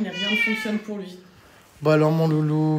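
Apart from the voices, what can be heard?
cat meowing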